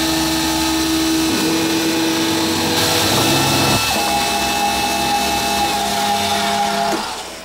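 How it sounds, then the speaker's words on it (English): A CNC mill cutting a small slot with an end mill sends out a loud, steady machining whine and drone, with tones that shift at a few points as the cut changes, then drops off at the end. "End mill. Gonna cut a little slot."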